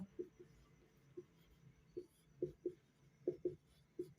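Pen or chalk writing out a math formula during a geometry lesson, heard as short scratchy strokes in uneven bursts, close and fairly quiet with no voice.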